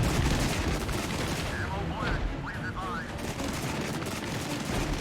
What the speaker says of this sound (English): Anti-aircraft guns